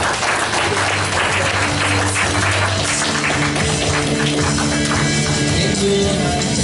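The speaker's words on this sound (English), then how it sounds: "Let's give them a clap." Congregation clapping at a worship service, a loud, steady patter of many hands with a sustained musical tone humming underneath throughout.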